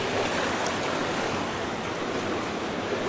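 Creek water rushes steadily against a small bridge, a loud, unbroken broadband roar close by with no speech.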